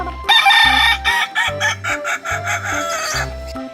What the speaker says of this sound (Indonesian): Wah, ada induk ayam teman-teman.